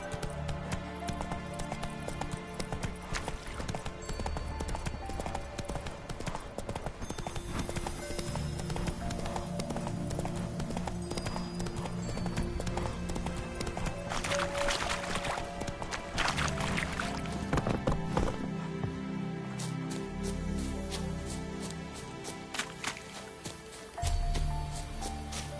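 Horse hooves clip-clop steadily as the animal is ridden, a continuous rhythmic clatter over a dense, busy background that stays loud throughout, with no voices.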